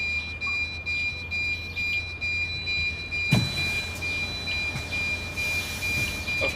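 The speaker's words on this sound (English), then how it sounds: "Oh, now I've got all the alarms going off." Vehicle alarms go off inside a stalled bus, a steady high electronic tone with pulsing beeps over a low engine-like hum, close and continuous, with a brief knock partway through.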